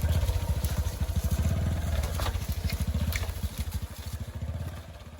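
A motorcycle engine putters with a rapid, uneven low pulse as the bike is ridden beneath a fallen tree and along a path broken up by a landslide, close and steady throughout.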